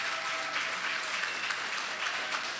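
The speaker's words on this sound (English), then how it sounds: "Please give him a loving round of applause" An audience applauds Justice Scott Neville at a stage event, a steady, dense wash of clapping that holds at an even level throughout.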